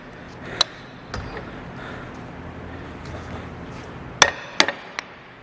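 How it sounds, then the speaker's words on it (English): Hammer tapping on a Can-Am Outlander universal joint during replacement, a few sharp metallic knocks, one early and a quick cluster of two or three near the end, close and fairly loud over low background noise. "So you might need to give it a little tap"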